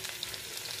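Spices such as turmeric, coriander and red chili powder sizzle steadily in hot oil in a pan for katehal (jackfruit) sabji, a brief, faint, even crackle with no voices.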